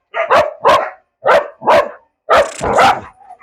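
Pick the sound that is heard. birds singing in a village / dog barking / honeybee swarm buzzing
dog barking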